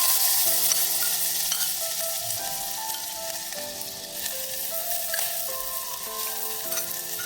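Cumin seeds sizzle and crackle in two spoonfuls of hot oil in a pot, with a steady bright frying hiss and intermittent stirring scrapes throughout, close and fairly loud with no talk.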